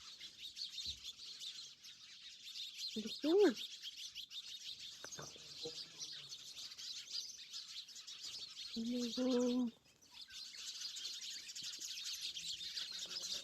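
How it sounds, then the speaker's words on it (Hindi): Many small birds chirp indoors in a dense, continuous chorus. A few lower calls stand out, and a person speaks briefly. "देखिए चिड़ियाओं की आवाज़।"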